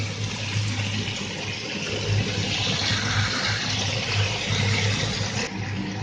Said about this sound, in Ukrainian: З кожного боку смажимо хвилин по 5-6